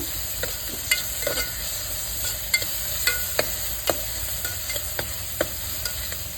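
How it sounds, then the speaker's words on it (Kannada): Ginger garlic paste frying in oil in a pan for millet aloo pulao, a continuous close sizzle punctuated by regular spatula scrapes and clicks from stirring. "ಇದಕ್ಕೆ ನಾನೀಗ ಶುಂಠಿ ಬೆಳ್ಳುಳ್ಳಿ ಪೇಸ್ಟ್ ಹಾಕ್ತಾ ಇದ್ದೀನಿ. ಶುಂಠಿ ಬೆಳ್ಳುಳ್ಳಿ ಪೇಸ್ಟು ಸ್ವಲ್ಪ ಸ್ಮೆಲ್ ಹೋಗಬೇಕು."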